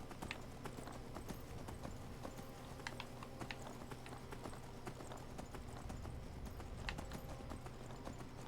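Galloping horse hooves in Skyrim clip-clop in a steady, quick rhythm over a constant low rumble of game ambience, with no one speaking.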